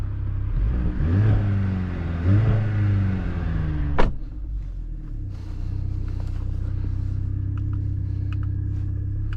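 A 2023 Mercedes-AMG C 43 engine revs up twice, rising and falling in pitch, then a sharp click and a steady low idle hum.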